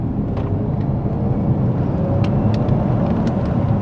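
A Mercedes S65 AMG with a V12 engine sounds as a steady, dense roar from a car on the road, with a few brief sharp ticks scattered through it and no speech.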